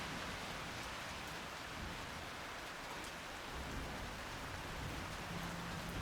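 Steady, dense rainfall pours without a break, a broad even hiss of drops with a faint low rumble underneath and no voices.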